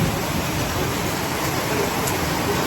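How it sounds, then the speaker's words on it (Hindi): Steady rain pours down during a monsoon downpour in India, a dense, even hiss of drops that stays loud and unbroken throughout, with no voices over it. "ये बारिश छूटने का नाम नहीं ले रहा है गाइस, ये देखिए बारिश छूटने का नाम नहीं ले रहा है।"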